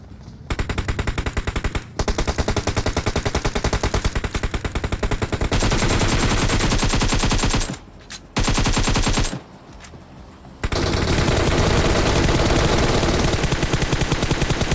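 Rapid, loud automatic gunfire in the mobile battle royale game BGMI rattles almost nonstop, with two brief gaps, before a final long sustained burst.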